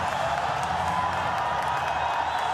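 Dense, steady roar of a large cricket stadium crowd cheering and clapping at an ODI between Pakistan and Sri Lanka, a continuous wash of noise with scattered whoops and faint voices underneath.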